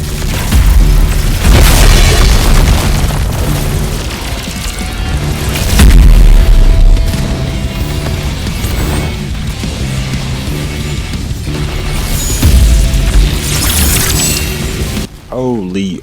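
Sasuke's awakening move in an anime battleground video game sets off repeated loud, booming explosions, heavy thuds recurring every few seconds beneath a dense wash of game music and effects, with a brief sharp burst at the close.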